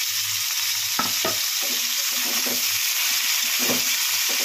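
Boiled potato sautéing with browned onions and crushed garlic in hot oil, a loud steady hiss of frying with several scraping strokes of a spatula against the pan, close up and without speech.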